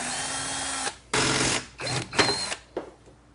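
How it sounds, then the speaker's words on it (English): A power drill bores holes into a bumper mount while a body kit is fitted to a 2005–2009 Ford Mustang. The drill whines in several short, close bursts separated by brief pauses. "Anytime you drill any holes into your vehicle"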